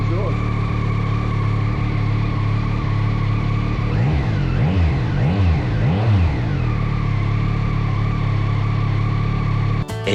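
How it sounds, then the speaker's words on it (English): A Yamaha XSR900 motorcycle on its stock exhaust idling after a cold start, loud and close with a steady exhaust rumble, rising and falling through a few throttle blips midway before settling back. "the stock exhaust, cold start. So again, it sounds quite good"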